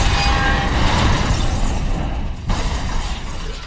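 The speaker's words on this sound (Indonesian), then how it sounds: "bukannya mati, mobil itu hancur terbelah" A car tears apart in a film scene, heard as a loud, dense crashing and shattering roar that fades slightly before a second burst of debris near the end, with no talk.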